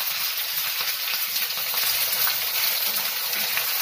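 Onions sautéing in a hot pan for tamarind onion rice mix, a steady close hiss of frying that runs continuously and fairly loud with no talking.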